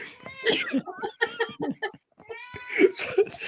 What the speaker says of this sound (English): I'm just gonna have to chase a cat out the room.